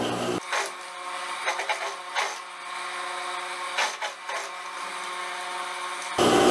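A sewing machine topstitches close to the edge of a dress neckline seam, its needle running in a steady continuous whir with brief pauses and restarts, close and alone.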